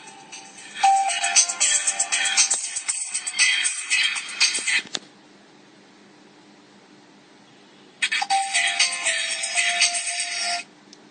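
A Samsung phone ringtone plays loudly for about four seconds for an incoming call, stops for a few seconds of near silence, then rings again for several more seconds.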